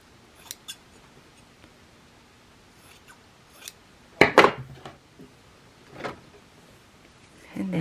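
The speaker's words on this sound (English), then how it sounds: "So trim the edge so there's not a lot of bulk when we flip it." Sharp scissors snip along the edge of quilt fabric for a quilt-as-you-go square coaster, in several distinct cuts: two quick early snips, a louder cluster in the middle, then more cuts near the end, with quiet pauses between them.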